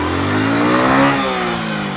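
A motorcycle engine revs steadily and rises slightly in pitch as first gear is engaged and the clutch is let out, sounding close and continuous with no talk over it.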